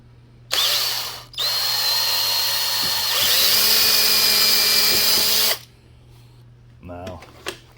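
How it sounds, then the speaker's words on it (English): A power drill whines loudly in two long runs, pausing briefly, as a step bit bores through chipboard; faint voice and clatter follow afterward. "and just drill some holes right through the chipboard."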